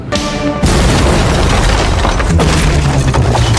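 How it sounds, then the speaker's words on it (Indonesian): A loud bomb explosion from a booby trap in the action film King of Killers erupts with a heavy boom, followed by a rumbling roar and debris-like noise that continues for several seconds. "betapa sial nasib mereka yang harus terkena jebakan berupa bom dan membuat mereka semua terpental"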